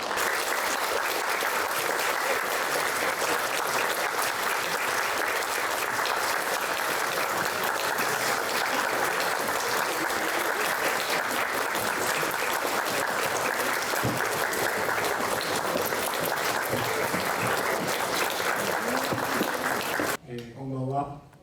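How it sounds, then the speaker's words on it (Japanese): Sustained, loud applause from a large audience fills the hall as a sumo stablemaster and wrestlers enter a stable's end-of-tournament celebration party, continuing steadily for about twenty seconds before cutting off abruptly near the end. "皆様盛大な拍手でお迎えください。"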